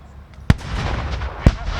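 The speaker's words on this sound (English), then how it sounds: "huge explosion there in their swimming pool" Two sharp, loud blasts about a second apart from pyrotechnic explosions set off in a swimming pool at a tanks, trucks and firepower show, over a steady outdoor rumble.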